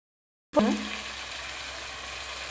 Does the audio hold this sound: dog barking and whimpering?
no